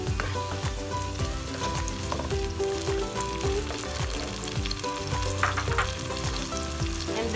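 Soy sauce hits a hot frying pan while adobong tilapia cooks, producing a loud, dense, steady sizzle with crackling pops and occasional stirring scrapes, close up and without any speech.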